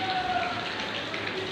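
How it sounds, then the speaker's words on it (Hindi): Heavy rain falling in Bahawalpur, a dense, steady hiss of downpour that fills the whole moment without letup. "आज भी बारिश बहुत तेज हो रही है"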